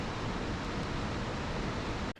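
Wide Khone Phapheng waterfall in southern Laos, flowing low in the dry season: a dense, steady roar of falling water, continuous and broadband, with no voices, cutting off abruptly at the end.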